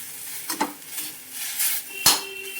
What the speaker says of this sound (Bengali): চলো ঢেলে নিই। শাকটা ঢেলে নিয়েছি।